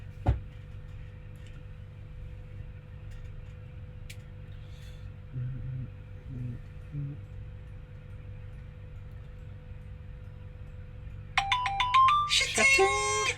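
An old-style mobile phone text message tone chimes near the end as a short bright burst of rising notes, loud and close, after a stretch of quiet room background during a pub food quiz.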